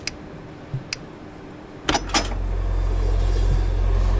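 A car lift in Car Mechanic Simulator 2014 raises and lowers a car. A few light clicks come first, then a steady low motor hum rises and holds at moderate loudness with no talking.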